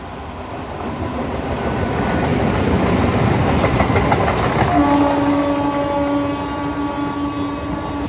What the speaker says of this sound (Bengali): ততক্ষণ আমরা একটু ট্রেন দেখি